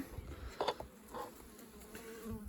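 Honey bees in a winter beehive cluster beneath a feeder on the top bars give off a faint, low hum, with soft rustling bumps scattered through it.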